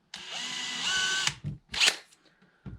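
A power drill with a 1.5mm bit whines steadily for about a second while drilling small pilot holes for screws when fitting Euro hinges, then short bursts of drilling and handling clicks follow, close by.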